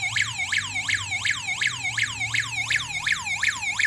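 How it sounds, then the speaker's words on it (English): A home security alarm system sounds its siren after a door sensor is triggered, a loud rapid warbling wail that sweeps up and down in steady repeated cycles, about two per second, with no voices over it. "This alarm,"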